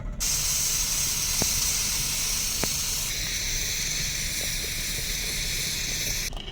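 A pressure cooker vents steam while cooking rice for biryani, giving a loud, steady, broadband hiss that runs unbroken for several seconds with a few faint clicks and no talking.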